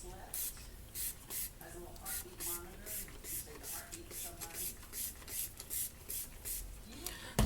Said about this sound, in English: I'll go ahead and wet this down with the conditioner